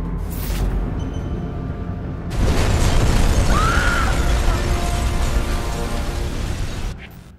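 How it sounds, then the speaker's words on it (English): An oil truck explodes on a bridge in Batman: Arkham Asylum, a loud broadband boom that bursts in after a quieter opening and rumbles on for several seconds with debris and fire noise before cutting off. "Source of explosion was an oil truck on the bridge surface."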